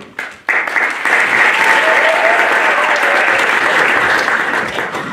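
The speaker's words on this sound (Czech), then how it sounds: "Potlesk pro ně!" A crowd at a slam poetry event breaks into loud, sustained applause after a brief pause, the clapping dense and steady throughout with some cheering mixed in.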